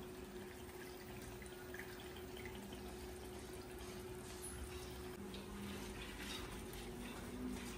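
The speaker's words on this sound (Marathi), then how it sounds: "भाजी मी आधीच धुवून घेतली, परत एकदा धुवते." Water running steadily from a tap while vegetables are washed in a home kitchen, a faint continuous splashing hiss with no break.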